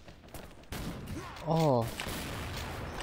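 Barrett sniper rifle fire in the shooting game XSHOT: a sharp shot bursts in partway through, with a broad blast and rumbling tail, and a man's brief exclamation rings out over it.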